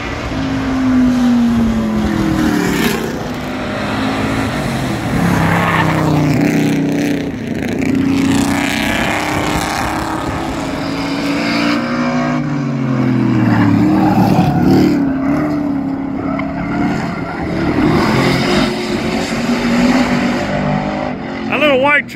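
Race cars including a Camaro, a Subaru and a Z28 run laps at a track event, engines roaring and revving continuously with rising and falling pitch as they pass, loud and close, while people talk over the noise.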